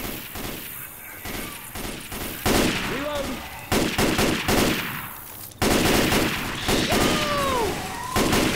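Gunfire in the video game Left 4 Dead 2: loud, dense shooting and impacts in several clustered bursts with booming hits, continuing throughout over busy game noise.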